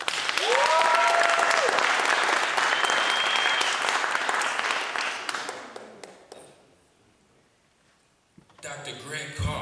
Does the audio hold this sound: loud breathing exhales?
no